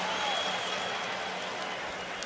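A football stadium crowd at a Florida State versus Miami game applauds a hard-fought run, a steady wash of distant clapping and cheering that holds at a moderate level throughout.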